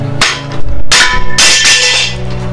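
A Milwaukee power tool battery used as a hammer, striking hard in three loud, ringing metallic impacts with sustained resonance in a workshop setting during a Sur-Ron electric bike build.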